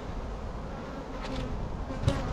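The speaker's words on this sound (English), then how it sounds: "See the bees coming out right there." A steady, close drone of many honey bees hums around an open hive as young bees emerge from brood frames, with a faint tap near the end.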